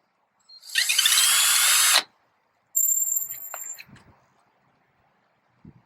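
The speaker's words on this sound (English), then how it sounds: "and you just drill them out." A power drill bores through pre-drilled holes in a mounting plate for a Predator 13 engine install, with one long steady whine, a short pause, then a second fading burst and faint clunks after.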